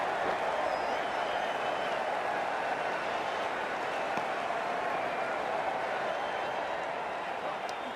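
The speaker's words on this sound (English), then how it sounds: "the excitement emanating from this crowd at the moment." Crowd noise from a cricket stadium in the video game Cricket 24 during an Australia vs India match, a steady, dense roar of cheering and applause that continues evenly throughout at moderate level.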